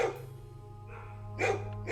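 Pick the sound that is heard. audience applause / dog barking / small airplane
dog barking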